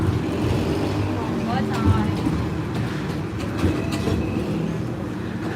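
A Hong Kong tram rolls along near North Point, its steady rumble and occasional clatter running continuously while people chat nearby.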